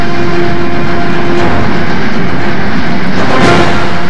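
A Southern Pacific AC-11 cab forward steam locomotive hauling a train over Donner Pass in autumn, a loud, continuous rumbling roar with rail clatter, no voices.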